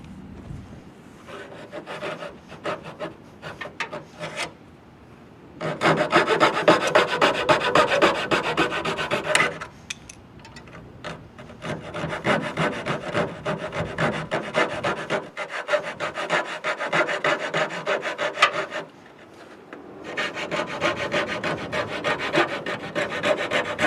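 A hand saw rasps through wooden baseboard trim to cut a small arch, with close, rhythmic back-and-forth strokes in several long bursts separated by short pauses and no speech.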